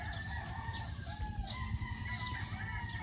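A rooster crows, its call carrying over a steady background of rustling and low rumble, with other birds faintly audible.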